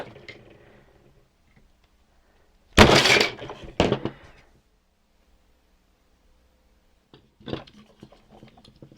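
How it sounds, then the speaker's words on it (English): A screwdriver is pounded through a piece of wood with a sharp cracking burst of impacts, then a second strike moments later, and light tapping near the end, all close and otherwise quiet. "I can also take a piece of wood here and then put a screwdriver on this right in the center. Give it a little pounding."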